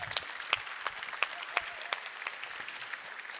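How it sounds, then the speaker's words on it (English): Applause from a conference audience at a security festival, a small crowd clapping steadily with sharp individual claps, moderately close, briefly and without talk. "So hand of applause again."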